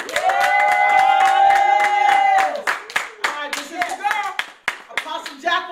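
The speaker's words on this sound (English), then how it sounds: "let's give the Lord a hand clap of praise" An audience on a Christian talk show claps hands in praise. A long sustained vocal cry comes first, then scattered and rhythmic claps mix with excited voices calling out.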